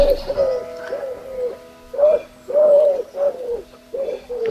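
An owl calls repeatedly in a wood, with clear rhythmic hooting phrases separated by short pauses, heard fairly close and alone.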